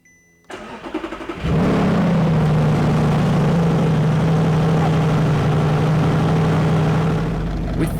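An Audi R8 fitted with a custom-built exhaust fires up after a brief crank, then settles into a loud, steady, rumbling idle that holds close and unbroken for several seconds.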